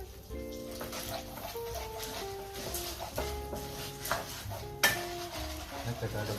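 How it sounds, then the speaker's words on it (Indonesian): Popcorn kernels stirred in a hot pot, making a soft rattling and scraping that sits under music playing throughout. "Kita aduk-aduk terus jagungnya sampai ada yang meletak-letak gitu ya"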